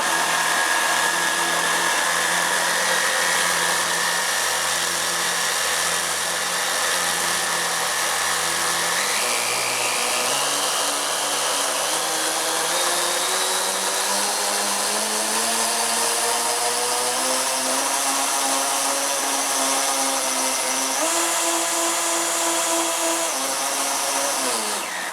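Two electric motors with ESCs and 21-tooth pinions whine steadily and loudly, their pitch gradually climbing as they spin up, with a continuous high mechanical hiss throughout.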